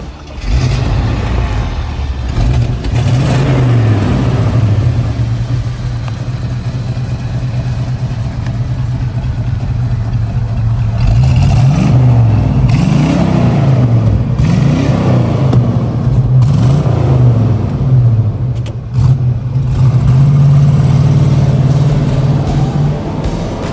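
A 1972 AMC AMX muscle car engine rumbles steadily up close, a deep loud idle with brief revs and throttle blips in the middle, running alone without talk.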